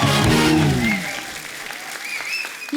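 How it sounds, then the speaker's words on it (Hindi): Studio audience applause on a TV comedy show starts loud and full as a voice trails off beneath it, then thins to scattered clapping over nearly three seconds. "जोरदार तालियां इस ब्यूटीफुल कपल के लिए।"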